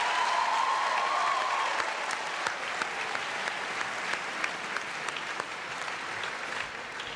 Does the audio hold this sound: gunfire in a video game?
no